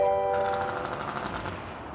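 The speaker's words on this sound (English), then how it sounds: "Dude is ripping that Jake brake. Just ripping it." A semi truck's Jake brake fires off in a rapid, staccato machine-gun rattle that fades over two seconds, heard from the roadside with no talking.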